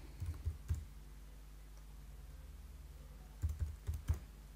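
Code being typed on a computer keyboard, two short clusters of close, soft key clicks at the start and end with a quiet hum between.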